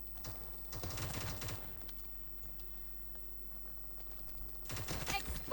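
Video game gunfire comes in two rapid bursts of clattering shots, one early and one at the end, separated by a quiet stretch with a low steady hum; the shots sound fairly faint and close together.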